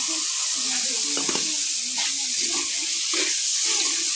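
Tomatoes go into a hot pan for an Afghani omelette with potatoes, a steady bright sizzle and hiss running throughout with a few soft clatters and stirring scrapes.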